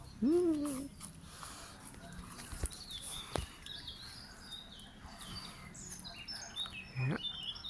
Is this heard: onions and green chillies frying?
no